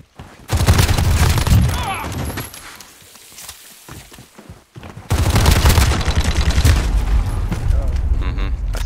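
Rapid gunfire bursts from a free-for-all shooter video game, loud and dense, cutting out briefly mid-clip before another sustained volley, with players talking over the shooting.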